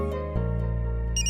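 A phone rings indoors in a Hindi-dubbed South Indian film scene, a steady tonal ringing melody that holds for over a second, fairly loud and alone with no talk over it.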